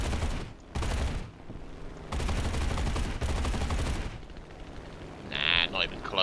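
Aircraft guns on an F4U-4B fighter in War Thunder fire in short bursts, loud and close, with gaps of engine drone between them and a brief quieter rattle near the end.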